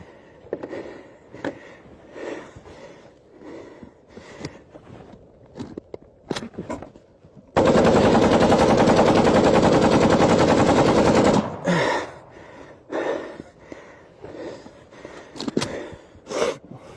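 A machine gun fires a long, unbroken burst of about four seconds, loud and close, framed by scattered single shots, breaths and movement before and after.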